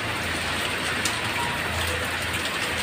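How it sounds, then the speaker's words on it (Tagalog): Heavy rain pouring steadily in the Philippines, a dense continuous hiss of drops on surfaces, loud and close, with no pause throughout. "Lakas ng ulan."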